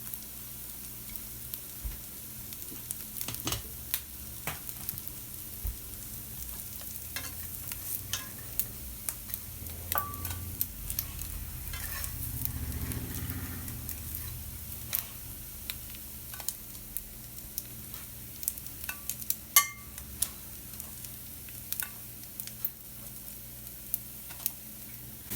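Mung bean cutlets fry in a pan over medium-low heat, giving a quiet, continuous sizzle scattered with small pops and crackles, with a few clicks and a brief low rumble partway through.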